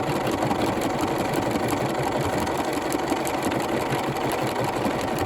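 A Bernina 5 or 7 series sewing machine running fast, stitching two layers of fabric with stabiliser underneath, a continuous close whirring hum with rapid needle chatter throughout.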